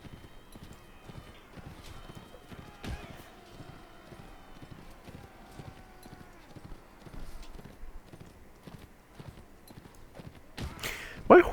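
Rapid galloping horse hooves from Mount & Blade: Warband (Gekokujo mod), a steady rhythmic clip-clop running throughout at moderate level, with a brief louder burst near the end.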